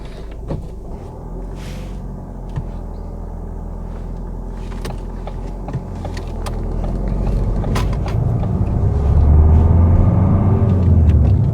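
A car pulls away at the start of a UK driving test, its engine rumble close and low, gradually building louder toward the end, with scattered small clicks and knocks inside the cabin.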